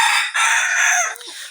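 A rooster crows loudly and close by, one sustained call lasting over a second, heard alone with no voices.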